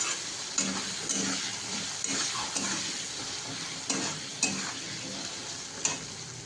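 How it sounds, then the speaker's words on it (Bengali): Spices with two teaspoons of turmeric stirred and fried in a pan: a steady close sizzle with periodic louder scrapes and knocks of the spoon roughly every second, no voices. "এবার এটাকে ভালো করে নাড়াচাড়া করে নেব যতক্ষণ না ফ্রাই হবে।"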